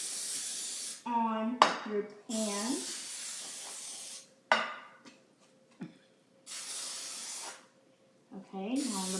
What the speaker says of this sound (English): We're gonna take our spray, shake it a little bit, and then spray it